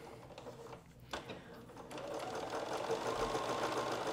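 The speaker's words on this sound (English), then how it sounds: "I'm going to do a little back stitch." A sewing machine stitches a zipper tape onto a bolster pillow, first a few short stop-start bursts, then settling into a steady, close mechanical whir of continuous stitching.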